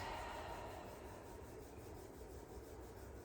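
Hands rub together during a yoga session, a quiet, steady, close-up swishing friction with no other sound over it.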